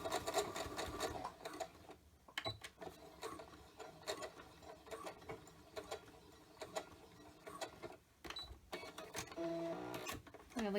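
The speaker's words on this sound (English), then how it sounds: "just gonna go over it here real quick with my sewing machine" A sewing machine stitches through fabric in quick, rattling bursts broken by short pauses, close and clear, with occasional mechanical clicks between runs.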